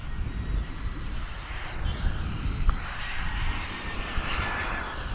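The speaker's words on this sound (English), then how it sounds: "Here comes that flight from Silao." An airliner arriving from Silao at Dallas/Fort Worth International Airport gives a continuous broad engine roar at moderate distance, holding steady throughout with no speech.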